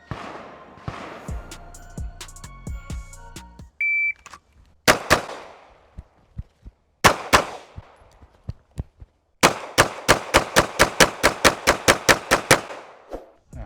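Glock pistol shots at range targets: sharp, loud single reports spaced out, then a rapid even string of a dozen or so shots near the end, with electronic beeps and clicks at the start.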